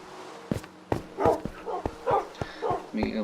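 Dogs in Minecraft giving short, repeated barks and yips in an irregular rhythm, with a person talking among them.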